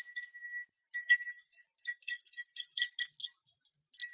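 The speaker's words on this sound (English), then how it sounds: "let's ring this bell here." A bell rung during a spiritual blessing session gives several bright, clear strikes about a second apart. Each strike leaves a sustained high ringing tone that lingers between hits.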